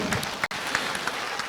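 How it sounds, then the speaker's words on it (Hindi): Applause from an audience at an insurance sales training session, a short steady burst of clapping with no voices over it. "एक बार तालियां हो जाए दोस्तों।"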